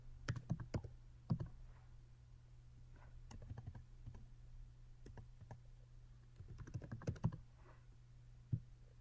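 Typing on a computer keyboard in quiet short bursts of sharp clicks with pauses between them, close by and with no voices.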